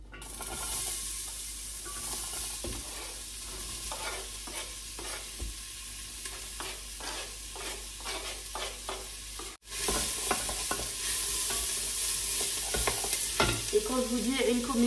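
Onions frying in oil in a pan, a continuous close sizzle with repeated scrapes and clicks of a spatula stirring, a brief break midway before the frying resumes louder.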